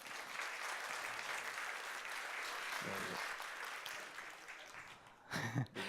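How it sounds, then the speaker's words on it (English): An audience at a tech talk gives a speaker a sustained round of clapping, steady and moderately loud for about five seconds, with a brief voice and a louder burst near the end. "Big round of applause for Simon."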